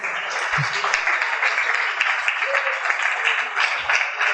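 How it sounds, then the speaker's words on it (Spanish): Children applauding from upstairs, a broad continuous wash of clapping heard from a distance, with a few low thumps and handling noises underneath. "los aplausos vinieron de allá arriba, que son los niños que estuvieron el año pasado en la comunidad"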